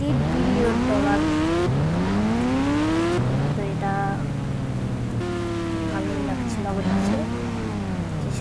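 A motorbike engine in the mobile driving game Indian Bike Driving 3D revs steadily, its pitch sweeping up and down in repeated waves over a constant loud drone, with a voice talking at times.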